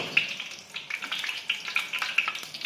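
Ginger slices frying in 50 grams of hot peanut oil in a heated wok, a close, lively crackle of dense sputtering pops with no talking.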